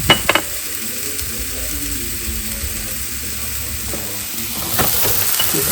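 Food stirred in a hot pan with salt and pepper, a steady sizzle under scraping and clicking strokes of the utensil, with a couple of sharp knocks at the start and no talking.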